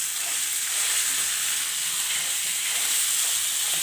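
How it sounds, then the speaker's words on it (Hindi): Mashed potato being mixed in a hot frying pan gives a steady, loud sizzle with a hissing wash that continues evenly throughout, and no voices can be heard. "आलू को हम इसके अंदर अच्छी तरीके से मिक्स करेंगे।"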